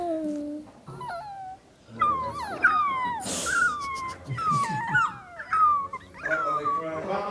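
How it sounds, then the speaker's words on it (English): Puppy whimpering and whining in a house, repeated high wavering cries and yelps coming in clusters, close by, with people talking over and between them. "Little puppy. It's okay, little puppy."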